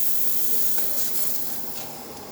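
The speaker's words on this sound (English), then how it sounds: "we can have nice steam coming out of this beautiful Breville infuser" Steady steam hiss from the steam wand of a Breville Infuser espresso machine, a continuous airy rush that stays loud and close, easing slightly toward the end.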